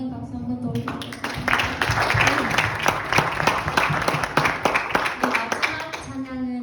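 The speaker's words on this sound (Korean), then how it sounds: "우리 주님께 영광의 박수 한 번 더 올려드리겠습니다." A church congregation at an evening worship and prayer service claps in a loud, dense burst of applause, with sustained tones and a voice heard just before and after it.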